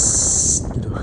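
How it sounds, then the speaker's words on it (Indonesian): Front ABS brake on a 2024 Vespa Sprint scooter releasing a loud, steady high-pitched hiss like an air brake, cutting off abruptly partway through and leaving quiet background noise. "ABS-nya rim depan dipencet tuh bunyinya"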